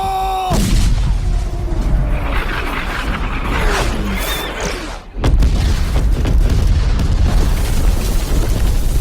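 Artillery cannons fire in a Maratha battle scene from a film about the Battle of Panipat, loud booming blasts with rumbling aftermath, one deep explosion near the midpoint, under a dense battle din.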